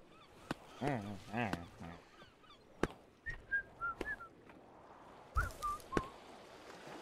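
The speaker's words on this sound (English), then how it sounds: "The freaking whistle." Whistle calls in the climbing game Peaks of Yore, a run of short rising and falling tonal whistles, some doubled, heard amid bursts of in-game sound and sharp impacts.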